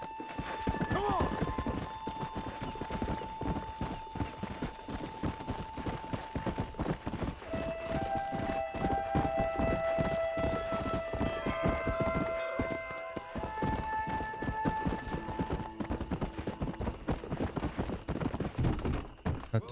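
A horse gallops in Red Dead Redemption with rapid, steady hoofbeats, loud and close throughout, along with sustained tonal game sounds and a brief whinny near the start.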